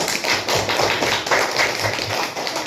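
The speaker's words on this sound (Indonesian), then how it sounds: "Tepuk tangan untuk kita semua." Schoolchildren clapping together in an Indonesian classroom, a dense, steady patter of many small hands filling the room for a few seconds without a break.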